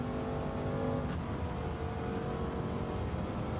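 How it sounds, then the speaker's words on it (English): A car engine in the Gran Turismo 7 racing game holds a loud, steady high-revving drone in fourth gear during a time trial run, filling the whole stretch with no talk over it. "I revved that out, which I probably shouldn't have done"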